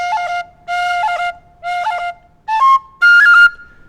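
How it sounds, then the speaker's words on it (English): Tin whistle of a modern make modelled on the old Clark's whistle, played alone in short bright phrases full of quick triplet ornaments, five clear bursts separated by brief pauses, close and fairly loud. "this is a modern make of the old Clark's whistle"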